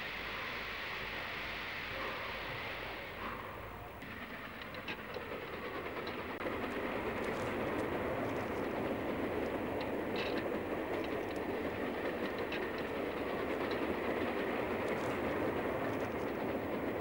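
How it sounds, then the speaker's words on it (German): Steam locomotive train rolling steadily with a dense rushing chuff and rail rumble, loud and continuous, with faint clanks over it and no voices. "Der Heizer schaut seiner Dampflok ins Maul, versorgt sie mit Kohlen und Wasser und ab geht's auf den Bahnhof Gremberg mit Volldampf in alle Himmelsrichtungen."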